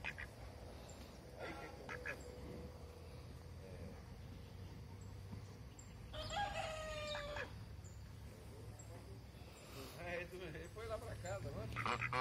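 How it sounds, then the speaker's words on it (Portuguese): A farm rooster gives its first crow of the dawn, faint in the distance near dairy cows, a short drawn-out call rising over a quiet outdoor background while people talk nearby. "É o galo ao primo canto."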